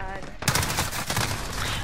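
Rapid AK-47 gunfire in a video game erupts suddenly after a quiet start and continues as a dense, loud burst of repeated shots throughout.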